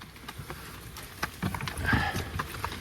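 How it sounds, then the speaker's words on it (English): Hooves of a draft horse clopping and slipping on the ground, irregular thuds and scrapes at moderate distance over a low steady background. "See Elvis slipping? I actually like that. Teach him to use his feet."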